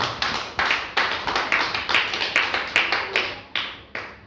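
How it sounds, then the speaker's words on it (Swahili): A church congregation claps together during a worship service, a dense burst of many hands striking in a steady, repeated rhythm that swells in waves, loud and close, with no voices over it. "Mchapie Bwana makofi kwa ajili yake."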